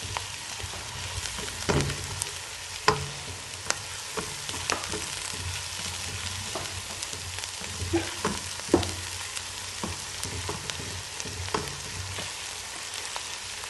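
Two tablespoons of ginger garlic paste frying in a pan for dhaba style chicken karahi, a constant soft sizzle with repeated scraping stirs and clinks, close and without talking.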